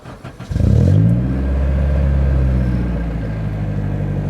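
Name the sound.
Honda K24 engine in FD RX7 starting up and revving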